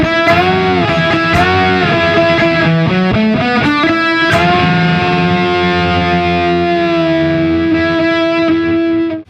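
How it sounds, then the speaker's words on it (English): Distorted electric guitar with a two-finger string bend: a few picked notes, then a sustained bent note that rises and holds, loud and close with a thick, saturated tone. "when you do the bending with both fingers,"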